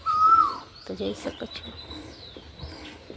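An Asian koel gives a short rising whistled call on a rural farm, heard once near the start. A person then talks, with other faint outdoor sounds behind.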